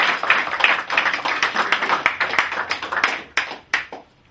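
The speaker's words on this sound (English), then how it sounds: "so give him a big round of applause, guys" Audience applause at a launch event, a close burst of many clapping hands that thins out into a few scattered, separate claps before stopping.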